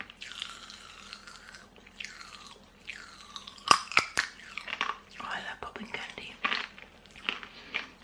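Someone eats apple-flavoured Tango popping candy close to the mic, with wet chewing, crackles and sharp crunchy snaps mixed with soft mouth sounds across several seconds.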